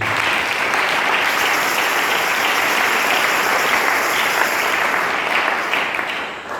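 A church congregation bursts into sustained, dense applause, loud and close, holding steady for several seconds before tapering slightly at the end.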